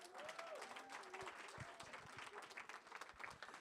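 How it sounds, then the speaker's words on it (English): An audience gives a warm round of applause to welcome a speaker, dense clapping that holds steady at a moderate level, heard from a distance in a hall. "Can I please have a warm, welcoming round of applause for Graciela Hunso Rivero."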